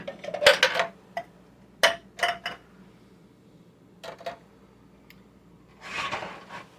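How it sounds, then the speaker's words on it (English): Metal cans clank and knock as they are shifted off a kitchen pantry shelf, with a few sharp clustered clatters, a scrape near the end, and quiet pauses between the moves. "Let me get those cans out of my way."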